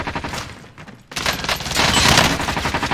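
Heavy gunfire from a large weapon in a combat video game, a dense roaring burst that briefly cuts out, then resumes louder and sustained through to the end.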